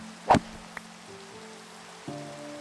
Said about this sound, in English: You know you're in a savanna when you see the rain in and out like that.